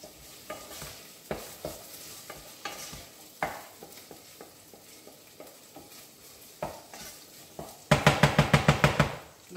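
Green peas cooking in a pan, with a soft sizzle under repeated scraping stirs at an irregular pace, then a fast burst of about eight loud rhythmic clanks against the pan at the end.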